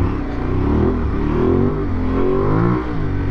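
Aprilia Tuareg 660 motorcycle engine revving hard at full throttle, a loud, close, sustained roar with rising and shifting pitch, no voices.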